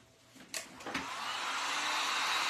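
Hair dryer switching on and running steadily to dry a freshly painted craft statue, a rising whoosh that settles into a continuous close airy roar.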